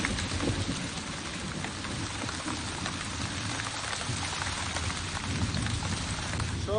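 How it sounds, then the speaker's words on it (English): Steady pouring rain with gusty hurricane-force wind, a dense continuous hiss of drops beating on surfaces, heard alone at an even, moderately loud level throughout. "Pouring rain and blowing a hurricane ever since."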